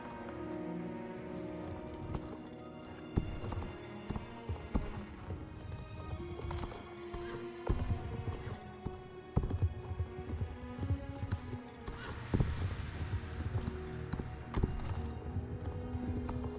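Horse hooves galloping in the Star Stable video game, a brisk, steady clip-clop rhythm that continues throughout over a soft, patter-like background and faint tonal game music.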